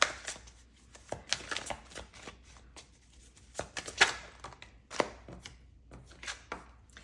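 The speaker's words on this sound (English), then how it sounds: "So let's pull some cards." A tarot deck is shuffled and cards are pulled up close: quick, irregular papery flicks and slaps in uneven bursts, fairly soft, with no talking.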